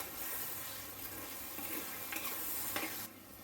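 Tomatoes with salt sauté in a pan, giving a steady close sizzle with a few soft stirring scrapes, no voices.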